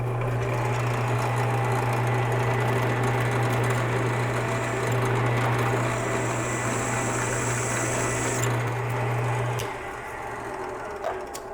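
A drill bores through metal shelf brackets with a loud, steady motor whine and grinding bite into the steel, running continuously for about ten seconds before spinning down.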